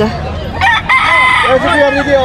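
A rooster crows close by at a busy gamefowl market, a loud strained call breaking into several bursts, with other birds and faint crowd noise behind.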